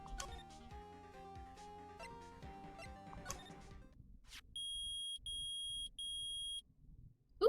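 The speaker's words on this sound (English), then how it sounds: "It's beeping! The metal detector's found something!" A metal detector in the Ace Attorney video game gives three loud, steady electronic beeps in a row, each separated by a brief gap, after a stretch of game music fades out.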